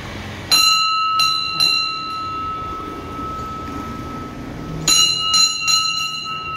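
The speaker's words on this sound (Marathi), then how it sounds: "घंटी वाजवायची" A temple bell rung by hand at a Hindu temple on Ashadhi Ekadashi, struck twice in bursts about four seconds apart, each strike a few quick bright clangs with a sustained ringing tone that fades.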